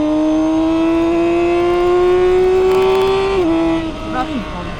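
A BMW K 1600 GTL motorcycle's six-cylinder engine revs in a smooth, steady rising whine with rich harmonics, then drops as the throttle eases near the end, loud and close over wind noise.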